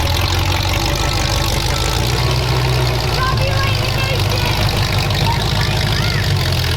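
Several demolition derby car engines idle together at a derby event, a loud continuous low rumble with steady knocking pulses, constant throughout, with voices mixed in.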